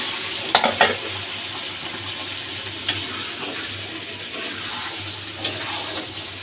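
Beef lung pieces drop into a pan of deep-browned fried onions and sizzle steadily, with a few sharp clinks of a stirring spoon against the pan near the start and scattered ones later.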